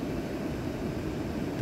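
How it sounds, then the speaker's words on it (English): The cooling fan of a Bluetti EB55 portable power station runs with a steady, close, jet-like whoosh, constant in level throughout and heard alone without speech. "the bluetti fan here is kind of like, it's a little mini jet almost"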